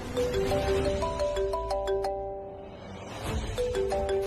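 A mobile phone rings with an incoming call from an unknown number in a Hindi TV serial scene, a loud electronic tone melody of repeating beeping notes that dips briefly midway, with no talking.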